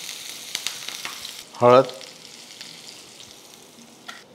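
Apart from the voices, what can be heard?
mustard seeds and green chili sizzling in hot oil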